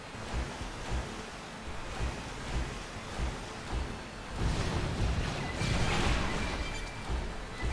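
A waterfall in the video game Xenoblade Chronicles X gives a continuous broadband roar of falling water, swelling louder midway and holding steady, with no voices over it.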